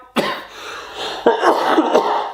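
Two or three harsh coughs close to the microphone, each a sharp burst followed by a rough trailing rasp, with brief pauses between.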